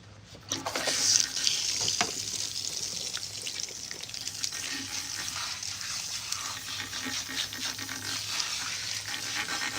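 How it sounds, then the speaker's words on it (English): Running water at a salon sink rinsing relaxer out of hair, a steady close rush of spray and splashing that begins abruptly and continues throughout. "So we're going to rinse the relaxer."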